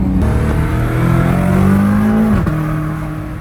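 A BMW M5 Competition with catless downpipes pulls hard under acceleration, its engine and turbos roaring loudly and rising in pitch before a brief dip and continued pull, heard from inside the car with no talking.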